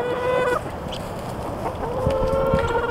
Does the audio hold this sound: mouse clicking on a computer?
no